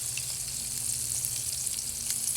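Bass fillets fry in hot lard, giving a steady, close, even sizzle with faint crackles throughout and no talking.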